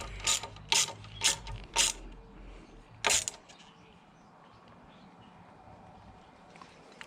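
Ratchet tightening nylock bolts on a crash bar for an Aprilia Tuareg 660, five sharp clicking bursts in quick succession up close, followed by quiet background.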